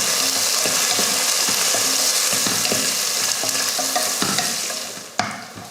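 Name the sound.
onion and green chillies sautéing in oil for biryani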